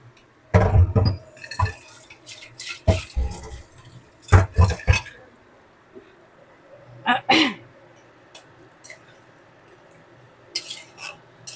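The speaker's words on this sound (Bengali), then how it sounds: "কাবলি ছোলার জলটাও দিয়ে দেব।" Boiled chickpeas and their cooking water go into a pan of spiced oil for a chana paneer curry, giving splashes and pouring sounds in irregular bursts with clinks of utensils and quiet gaps between them.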